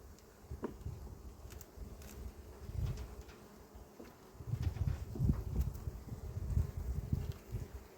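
Buckfast honey bees hum steadily at an open hive during a drought, a continuous low buzz with a few faint clicks and handling sounds over it.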